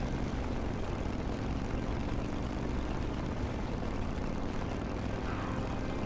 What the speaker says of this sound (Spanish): vamos a ir rápidamente en el turbo triciclo Goblin